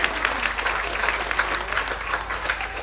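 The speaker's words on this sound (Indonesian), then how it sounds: "tepuk tangan yang meriah buat kita semua yuk" Audience at a Balinese bondres comedy performance during the Bali arts festival breaks into steady, dense clapping that fills the whole stretch at an even loudness, with no voices standing out above it.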